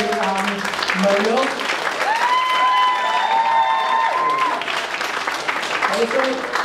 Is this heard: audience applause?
yes